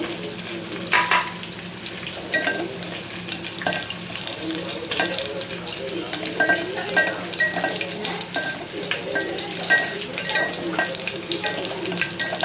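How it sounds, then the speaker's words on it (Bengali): Dried red chilies and five-spice tempering stirred in hot oil for mango chutney, a continuous crackling sizzle with repeated spoon scrapes against the pan, fairly loud and close. "শুকনো লঙ্কা 5 ফোড়ন একটু দিয়ে দিলাম, দিয়ে এবার এটা নাড়বো"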